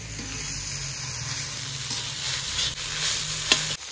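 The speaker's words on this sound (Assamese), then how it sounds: "আলু চেঙেৰি টেঙা এনেকে ভাজি লৈছো" Potatoes and cheneri tenga sizzle and fry in a pan in a village kitchen, with steady crackling close up, a bright whistling tone above it and a few stirring scrapes and knocks near the end.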